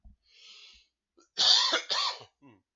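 Two harsh coughs in quick succession, close and fairly loud, with soft breaths before and after.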